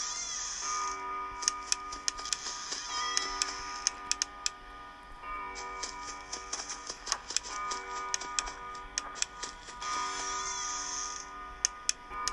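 Steady clock ticking in the horror video game Five Nights at Freddy's 4, a regular sharp tick-tock pulse running through the whole stretch over a quiet tonal game ambience, with no talking.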